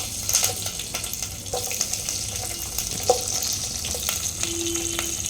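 Green chillies with mustard seeds, cumin and curry leaves frying in hot oil for gongura rice, a continuous crackling sizzle with spatters and stirring clinks, close and steady.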